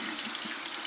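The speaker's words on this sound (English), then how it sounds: "I'm going to get a little bit of warm water and wet my fingertips." Warm water running steadily from a bathroom tap, a short close hiss of flowing water with no voices.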